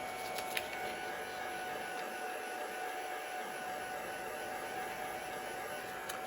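A dryer blows on tracing-paper craft flowers, giving a steady, even whooshing hum that runs unbroken throughout at moderate volume, with no talk.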